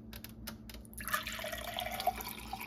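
Water pours from a filter pitcher as a steady, close liquid stream, starting about a second in after some small taps and handling noises, and running on without a pause.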